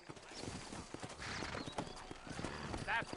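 Horse hooves clip-clop steadily in the Red Dead Redemption video game, set in the town of New Austin, mixed with faint neighs and ambient game sound under a voice.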